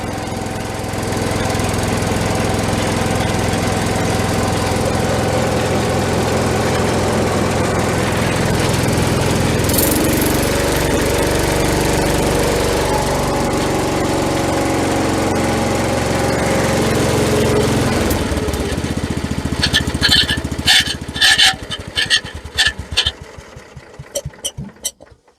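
Kohler K301 engine on a 1976 Vermeer LS200 log splitter running loud and close with a steady throbbing drone, then stumbling into irregular choppy bursts before dying out near the end.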